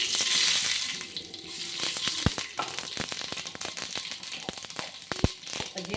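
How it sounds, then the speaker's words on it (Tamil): Spices tempering in hot oil for curd, a sizzling, crackling fry with sharp pops and spits scattered across the stretch, close and moderately loud, with no talking. "இப்போ தயிரை தாளிச்சிக்கலாம்."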